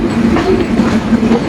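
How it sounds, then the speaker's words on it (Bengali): The Kapotaksha Express, running Khulna to Rajshahi, rolls into Kotchandpur railway station in Jhenaidah district with a steady, close rumble and rhythmic wheel clatter throughout. "নির্ধারিত সময়তে 7 মিনিট বিলম্বে কপোতাক্ষ এক্সপ্রেস ট্রেনটি প্রবেশ করছে ঝিনাইদহ জেলার কোটচাঁদপুর রেলওয়ে স্টেশনে"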